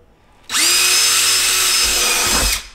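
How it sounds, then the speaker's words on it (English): A power drill bores a pilot hole in a plastic bucket with a sharp, loud, steady whine that starts suddenly, runs about two seconds close up, then cuts off. "Same thing, drill a hole."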